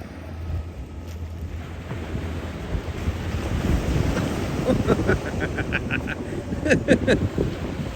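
Ocean surf washes in with steady wind buffeting the microphone, a broad roar throughout with splashes building toward the end; voices and a few sharp high clinks come through near the close.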